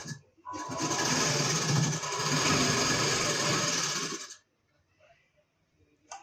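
A sewing machine runs in one steady burst of about four seconds while stitching a hook strip on a blouse, a close, loud whirring rattle, then stops and leaves near silence.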